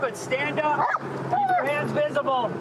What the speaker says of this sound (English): that's the dog over there.